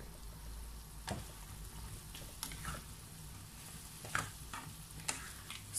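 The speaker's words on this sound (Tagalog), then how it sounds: "Saka po natin ito haluin muli." Teriyaki tofu being stirred in a pan, a faint low sizzle punctuated by scattered sharp utensil taps and scrapes, no one speaking.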